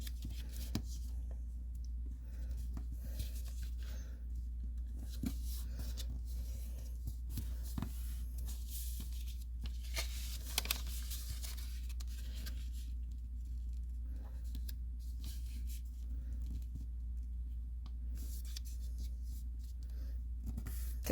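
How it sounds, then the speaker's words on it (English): Paper is creased and rubbed while being folded into an origami flappy dragon, giving soft scraping and crinkling strokes over a steady low hum, with no talk. "Fold them both to the center like that."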